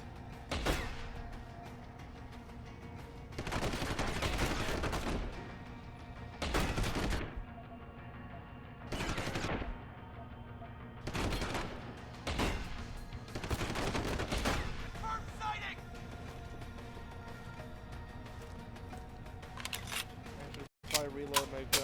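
Repeated pistol gunfire from the game Deus Ex: Human Revolution, several loud bursts of shots spaced out over about twenty seconds, with someone talking at times between them.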